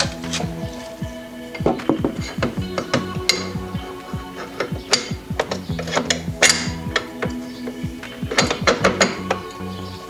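Ratchet clicks in quick rhythmic bursts as nuts are run down on a Polaris Scrambler A-arm brace, with metallic clinks and a faint background hum, close and moderately loud.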